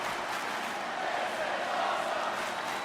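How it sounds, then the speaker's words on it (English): Continuous crowd noise from an arena audience at a SummerSlam wrestling match in WWE 2K22, a dense steady roar with a chanting swell, filling the whole stretch without clear breaks. "Crowd chanting, "This is awesome,""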